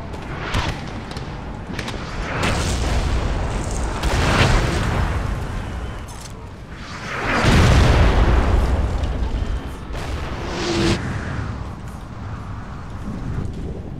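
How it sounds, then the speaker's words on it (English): Napoleonic-era cannon artillery firing in Napoleon: Total War, several deep booming blasts spread over the stretch with rumbling tails, the loudest heavy roll in the middle, with lighter pops and distant battle noise between. "All cannons fire on their remaining unit."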